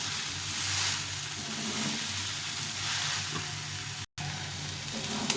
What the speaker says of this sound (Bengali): এখন আমি এর মধ্যে সয়াবিনটা দিয়ে দেবো, সেদ্ধ করা সয়াবিনটা দিয়ে দেবো, দিয়ে এটাকে ভালো করে কষিয়ে নেব।